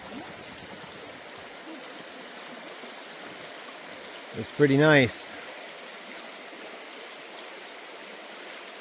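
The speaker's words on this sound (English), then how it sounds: "this must be Dismal Creek. part of the Dismal Creek that feeds the waterfall down there." Dismal Creek on the Appalachian Trail, flowing toward a waterfall, makes a soft, continuous babble in the background, with someone speaking briefly over it midway.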